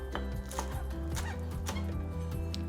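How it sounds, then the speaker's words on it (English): Knife finely chopping green onions on a board, a quick, steady run of close, crisp taps over a low background hum, without talk. "Now the first thing we'll want to do is chop our green onions."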